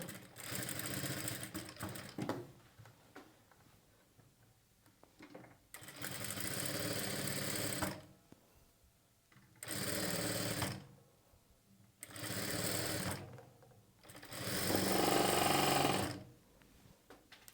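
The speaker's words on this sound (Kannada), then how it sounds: "ಈ ರೀತಿ ನಾವು ಸ್ಟಿಚ್ ಮಾಡ್ಕೊಳ್ಬೇಕು" Sewing machine stitching the back neck of a blouse, running in five separate bursts of rapid mechanical whirring, each lasting about two seconds, with short quiet pauses between them and no talking.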